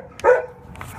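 A single short bark comes from a dog at a city animal shelter, fairly close and loud, followed by a faint background hum.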